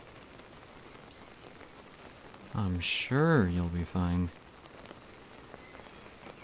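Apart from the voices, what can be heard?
rain falling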